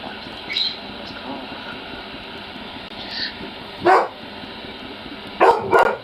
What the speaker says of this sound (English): Why do you have to bark at every little rat scuffle or cat?